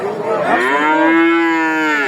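A cow, at a cattle market in Talgachhi, Sirajganj, gives one long, loud, close moo lasting about two seconds, rising and then falling away, with no talking over it.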